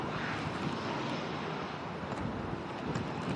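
Ryanair airliner from Rome arriving at Manchester Airport in the strong winds of Storm Darragh, a steady broadband roar of jet engines mixed with gusty wind buffeting the microphone, moderately distant and continuous.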